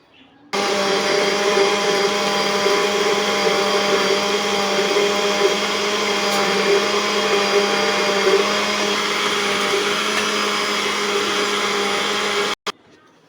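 A blender whirs steadily at close range for about twelve seconds, blending grapes with lemon juice into juice. It starts abruptly and cuts off sharply near the end, with no talking over the motor.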